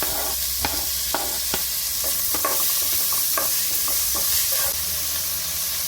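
Curry leaves and chopped tomatoes hit hot oil with onions in a pan, giving a loud, crackling sizzle punctuated by several sharp pops and stirring scrapes.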